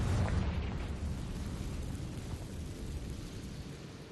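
A Confringo fire spell bursts in Hogwarts Legacy on Switch, a short rumbling blast that fades out into a low, noisy tail.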